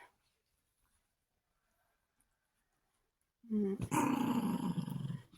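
A small dog growls close by in a loud, rough, sustained burst after several seconds of near silence.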